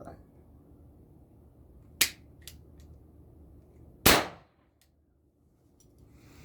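Two sharp, loud gunshots a couple of seconds apart, each a sudden crack with a short ring-out, amid faint background noise.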